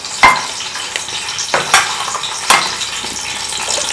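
Bay leaves and green chillies hitting a hot oiled pan, with a steady loud sizzle and several sharp clinks and scrapes of a spoon against the metal pan, no voices.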